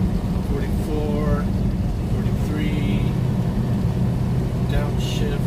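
With the throttle let off, a vehicle coasts down a wintry road toward Oklahoma at about 45 mph, producing a continuous, fairly loud whoosh of road and engine noise with faint tonal whines riding on top.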